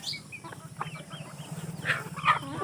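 Hens on a backyard hen farm cluck and murmur close by in a continuous low chatter, with a few sharper, higher squawks breaking through near the end.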